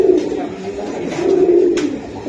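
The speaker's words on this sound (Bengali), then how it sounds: "এই যে দেখেন দুই জোড়া কবুতরে আছে" Pigeons coo in low, rolling, throaty phrases close to the microphone, two or more birds overlapping in a steady murmur with a brief flutter-like rustle near the end.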